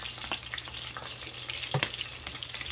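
Coconut shrimp frying in hot oil: a fairly faint, continuous crackling sizzle with scattered small pops and bursts, steady throughout and free of voices.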